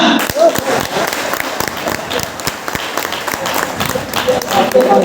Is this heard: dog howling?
no